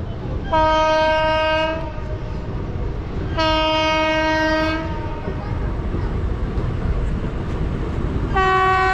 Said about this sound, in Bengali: ট্রেন আমাদের ছেড়ে দিল খাগড়াঘাট রেলওয়ে স্টেশন থেকে